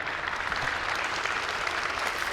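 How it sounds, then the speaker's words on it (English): An audience applauds after a talk on tabletop games, a dense, steady round of clapping from many people that continues throughout. "I guess you did because you're clapping"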